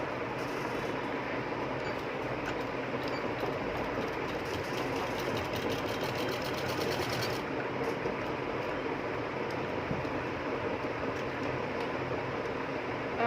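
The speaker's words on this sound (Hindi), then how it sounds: "यहाँ से आपने ये सिलाई लगाना शुरू करनी है" A sewing machine runs continuously while stitching a seam on a baby skirt, a steady mechanical whir with fine ticking, close by and unbroken by talk.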